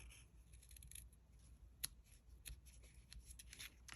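Scissors trim paper in a few quiet, crisp snips and rustles, close by and spread across a few seconds.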